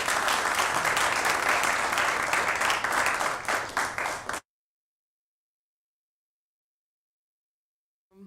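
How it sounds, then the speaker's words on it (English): An audience at a school event claps for a speaker being introduced, dense applause for about four seconds that thins into a few scattered claps before cutting to silence. "can you clap for Miss Janelle Fenton?"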